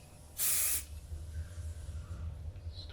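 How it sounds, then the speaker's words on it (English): A short, loud hiss of aerosol hairspray, under half a second long, followed by faint room noise. "I'll just put a smidge of spray on."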